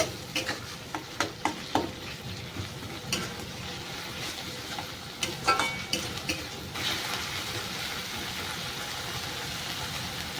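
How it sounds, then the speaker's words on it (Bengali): Garlic and ginger paste frying in a pan with cumin paste for a cauliflower and egg curry, a steady sizzle broken by stirring scrapes, which grows louder and denser in the last few seconds. "দু থেকে তিন কোয়া রসুন বাটা দিয়ে দেব আদা বাটা সব কটা উপকরণকে আমি ভালো করে কষিয়ে নেব"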